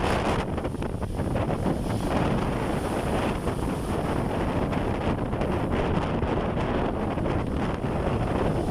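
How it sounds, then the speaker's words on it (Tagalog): Strong, steady typhoon wind roars across the microphone over the constant crash and wash of surf at Baseco Beach in Tondo, Manila, with no break throughout. "Grabe po, ang lalakas po ng hangin at alon po dito."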